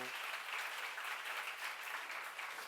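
A church congregation at a lecture applauds in a short, even burst of dense clapping, fairly faint but continuous throughout.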